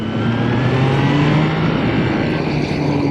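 A Triumph Trident 660 three-cylinder motorcycle rides at speed, its engine droning loud and steady with tonal whine and shifting pitch under wind rush, no talk.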